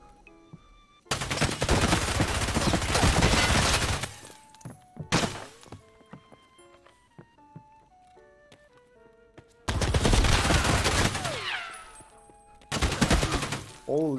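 Bursts of automatic gunfire in the video game Escape From Tarkov, with a P90 in play: a long loud volley, a short burst, quieter shots, then two more heavy volleys, with no talk over them.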